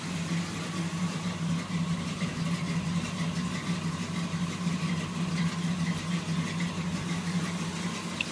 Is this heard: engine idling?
yes